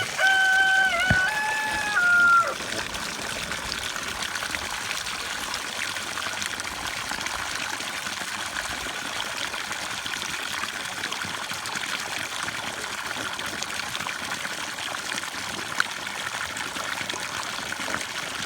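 Steady running water flows continuously, a broad hiss with a brief tonal beep near the start, and no talking over it.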